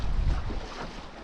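Wind buffets a small boat on a lake near a forest on a cold October day, a short burst of close, rough rushing noise with no voices.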